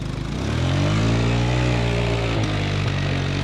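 An Arctic Cat 300 4x4 ATV engine revs up to a steady, loud, close drone, holding high RPM with a brief dip near the end.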